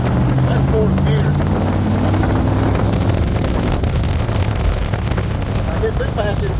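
A 1958 Chuck Beck Lister Corvette engine pulls in fourth gear, a loud, steady low roar mixed with heavy wind buffeting from an open car, with a voice speaking over it.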